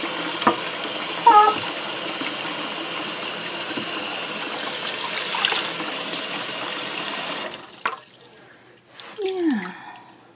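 Tap water runs steadily into a kitchen sink to fill a hedgehog's bath, a continuous hiss for about seven seconds before cutting off, followed by a few quieter splashes and handling noises.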